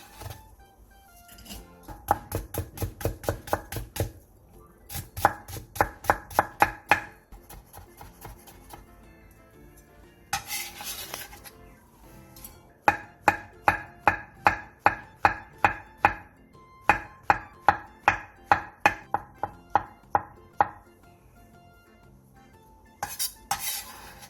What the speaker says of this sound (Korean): 양파 1개, 당근 4분의 1개, 표고버섯 2개를 얇게 채 썰어주세요.